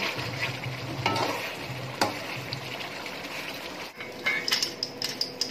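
Kachnar curry is stirred and fried in a kadhai, with a steady sizzle under sharp scrapes and clinks of a spoon against the pan. The sound is close and continuous, with brief louder strokes and no talking.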